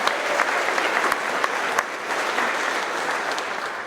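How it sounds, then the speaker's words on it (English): Steady, dense applause from an audience at a trucking company's monthly employee celebration rolls on without a break, even and fairly close, with no voices over it. "So let's give these guys a round of applause."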